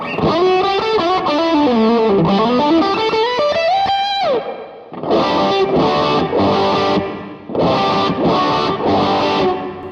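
Distorted high-gain electric guitar rings out with a sweeping lead run, then chopped rhythmic chords, all bathed in a lush, shimmering plate reverb tail from a Black Country Customs Secret Path reverb pedal.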